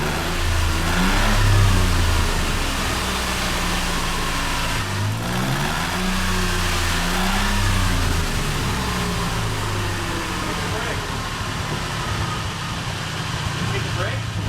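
The engine of a cheap DeLorean runs on a lift, a steady mid-pitched drone that rises and falls with several revs. People talk over it throughout.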